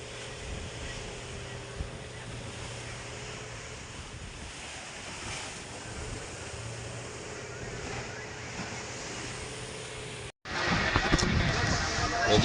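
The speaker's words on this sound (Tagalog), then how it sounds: "Gawa ng malubak po ngayon ng Pacific. Malalaki po ang alon." Big Pacific Ocean waves surge around a boat at sea in rough water, a constant roaring wash with heavy wind buffeting the microphone that briefly cuts out and then returns louder.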